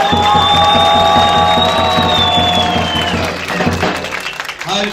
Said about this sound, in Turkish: damat bey güzel öğrendiğinden alkışlasınlar.